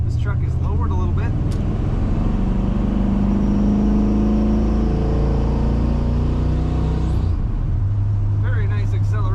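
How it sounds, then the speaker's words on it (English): A lowered 1986 Chevrolet C10 Stepside street rod pickup with headers accelerates hard, its loud engine rising in a long sustained pull before easing off, with brief voices at the start and end. "Very nice acceleration in this truck."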